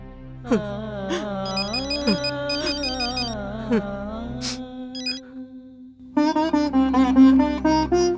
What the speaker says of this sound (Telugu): ఎవరు ఫోన్ చేశారో